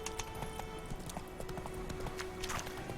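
Hooves clip-clop rapidly in a steady galloping rhythm as a horse is ridden along a path in The Witcher 3: Wild Hunt, with game ambience and a faint tone underneath.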